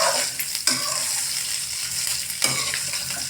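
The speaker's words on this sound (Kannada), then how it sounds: "ಈಗ ಅದು ಚಟ ಚಟ ಅಂತಂದು ಈ ರೀತಿ ಹುರಿದ ಸೌಂಡ್ ಬರ್ಲಿರ್ತದೆ" Red chillies frying in a pan, crackling and sizzling continuously with a couple of sharper pops, close and fairly quiet.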